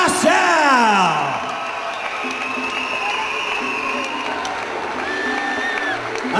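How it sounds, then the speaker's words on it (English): A crowd at the UWC 17 fight event cheers, whoops and whistles after a first-round technical knockout is announced. It is loudest at the start, then settles into a steady, roaring din of applause and yells. "a big round of applause to your runner-up, Zolti Bala"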